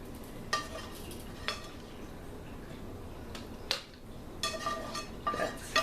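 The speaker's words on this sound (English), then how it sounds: "Still using my slotted spoon, that way if there is any grease in the bottom of the pan here" Cooked ground beef is scooped from a pan into canning jars with a slotted spoon, producing faint scraping and several sharp metallic clinks and taps spaced irregularly.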